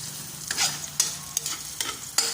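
Ginger frying in a pan makes a soft steady sizzle, broken by four or five sharp scrapes and clinks of a utensil as it is stirred, close up and with no voices.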